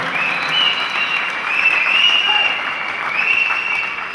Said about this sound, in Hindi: सीटियां नहीं, केवल तालियों से साथ दीजिएगा।